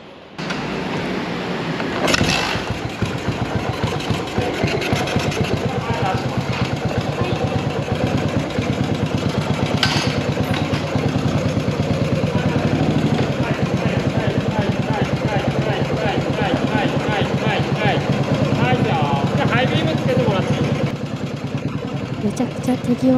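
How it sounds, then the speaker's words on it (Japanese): A cafe-style Yamaha SR motorcycle kick-started at a vehicle inspection station, then settling into a steady, loud, close idle with mechanical clatter that runs unbroken for over twenty seconds. "もう一度キックスタートです。"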